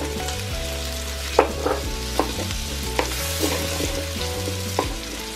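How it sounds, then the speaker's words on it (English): Chorizo sizzles steadily in a pan while making paella, with a loud, continuous frying hiss and a few sharp clicks from stirring, and no talking. "and then I'm gonna put the chorizo."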